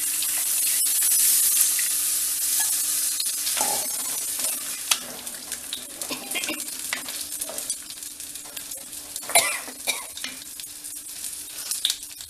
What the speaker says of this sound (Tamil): இப்போ புளி கரைசல் தண்ணி.